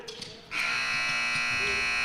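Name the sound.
basketball game buzzer at halftime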